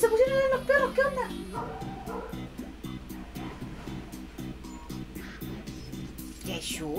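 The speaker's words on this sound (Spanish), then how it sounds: "Escucha los perros, momento Latinoamérica." Dogs bark and whimper in an excited burst at the opening, then fade into the background behind a steady music track, with a brief rise again at the close.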